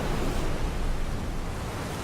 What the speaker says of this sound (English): Waves crashing against the rocky shore.